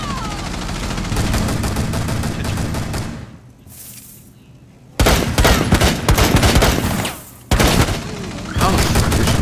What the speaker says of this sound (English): I shot her like 8 times.